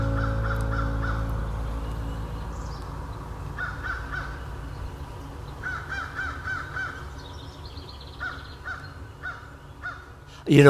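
A crow caws in short harsh bursts, several calls in quick groups spread across the stretch, fairly close and clear outdoors with a faint background hum.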